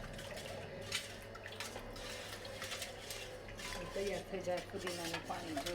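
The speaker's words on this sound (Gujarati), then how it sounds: "લીંબુ નાખી મિલાવી દેવાનું" A spoon stirs lemon juice into mint water for pani puri in a pot, a steady close scraping and swishing with soft clinks and faint dripping throughout.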